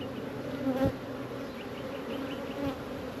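Honey bees buzz steadily around an open backyard hive, a dense close hum with individual insects whining past near and away, and no talking.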